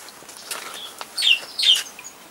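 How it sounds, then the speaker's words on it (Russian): A few soft clucks from laying hens, scattered short bursts against a quiet outdoor background. "Курочки, слышите? Несут яйца."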